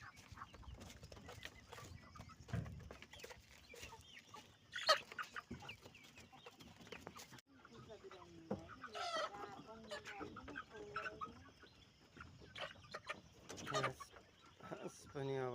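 Local Sonalika-breed hens cluck and squawk at a farm, with scattered calls and a rooster-like cry among faint background noise and occasional distant voices.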